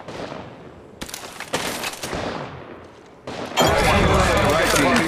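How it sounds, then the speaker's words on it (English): Rapid bursts of gunfire in the battle royale shooter Apex Legends Mobile, loud sharp volleys of automatic shots that stop and start, then a dense sustained barrage near the end, with a voice speaking in between. "Shots fired and they're hitting me."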